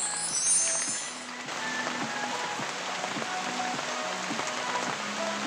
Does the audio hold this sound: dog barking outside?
no